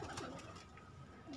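A single large pigeon coos in a short, low, throaty phrase, close and fairly quiet, with no voices.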